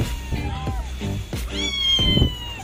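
A young Persian kitten of medium size meows angrily, with several drawn-out, rising and falling cries close up in quick succession.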